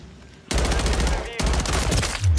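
Loud automatic gunfire erupts in a video game Hardpoint match, with a sustained burst, a brief break, then another long burst, all close and dominant.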